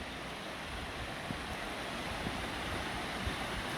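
Steady broadband rushing of a shallow river running past a flat riverside campsite with a fire pit in Australia, continuous and fairly close, with a few faint knocks and no talking.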